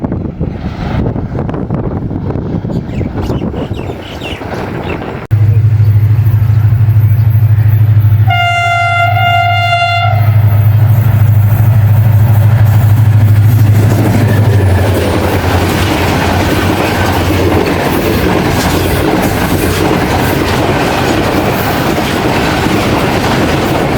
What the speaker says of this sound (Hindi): Up non-stop Karachi Express with 8217 on lead.